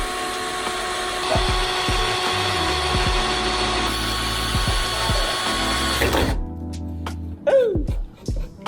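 A power drill bores a hole through a carbon fiber Evo X CSL-style trunk lid on a widebody Proton Inspira R3, whining steadily and loudly for about six seconds before cutting off, followed by brief clatter.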